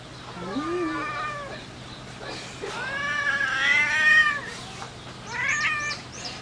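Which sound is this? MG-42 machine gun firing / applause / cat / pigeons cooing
cat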